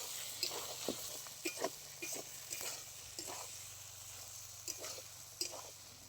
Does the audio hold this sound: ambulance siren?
no